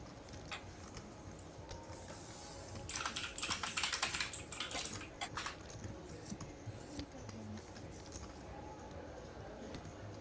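Fingers clatter steadily on a computer keyboard during an online poker stream, a dense run of clicks that grows busier in the middle, close and moderately loud with no talk over it.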